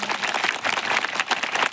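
An audience breaks into applause after a magic trick, a brief dense burst of many hands clapping, loud and close.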